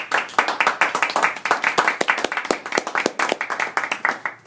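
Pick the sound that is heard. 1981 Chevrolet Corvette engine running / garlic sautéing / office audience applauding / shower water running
office audience applauding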